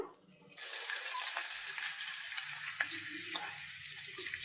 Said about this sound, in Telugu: పచ్చివాసన పోయే వరకు ఫ్రై చేసుకోవాలి